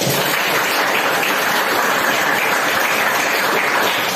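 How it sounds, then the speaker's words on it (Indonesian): A classroom full of students clapping steadily and continuously after a lesson, a dense, even wash of applause with no talk over it. "Tepuk tangan dong untuk kita semua"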